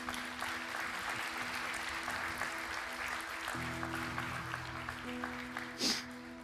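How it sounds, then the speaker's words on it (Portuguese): A church congregation applauds in worship with a steady, moderately distant wash of clapping. Sustained instrumental tones hum underneath throughout. "Você pode dar uma salva de palmas para o Senhor?"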